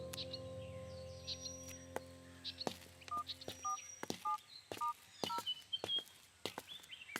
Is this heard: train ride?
no